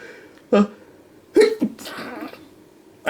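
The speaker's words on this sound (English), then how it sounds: "And I have to sneeze" A few sharp, explosive sneezes in quick succession, close and loud, separated by brief pauses with quiet room noise between.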